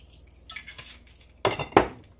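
Wine swirled and shaken inside a container to rinse it out while making a Jamaican black fruit cake, a few close sloshing and clinking bursts against near silence.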